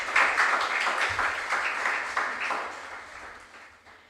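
Audience at a regional junior science and maths quiz claps for the contestants in a dense burst of applause that fades over a few seconds.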